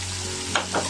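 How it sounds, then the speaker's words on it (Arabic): Green beans, meat and diced carrots being stirred in a hot pan, a steady soft sizzle with two brief scraping stirs near the end. "نشوح كله ببعضيه كويس"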